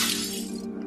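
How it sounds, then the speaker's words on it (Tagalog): Glass windows inside a house shattering as bullets tear through them, a loud bright burst of breaking glass that fades out after a fraction of a second. "Ang mga bala ay tumatagos sa mga salamin sa loob ng bahay, nagdulot ng malalakas na pagkabasag."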